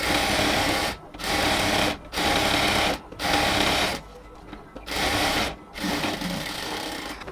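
A sewing machine stitches a cotton salwar in five short bursts, each about a second long with brief pauses between them, running close and steady.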